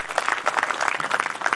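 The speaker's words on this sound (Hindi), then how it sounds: "एक बार आपके सम्मान की तालियां भाई योगेंद्र जी तक पहुंचे।" An audience applauds in a short, quick patter of many hands clapping, moderately loud and steady from start to finish.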